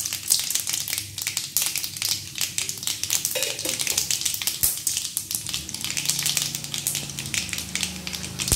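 Urad dal and mustard seeds fry in hot oil, giving a steady, crackling sizzle with dense popping and spattering that continues throughout, close and fairly loud.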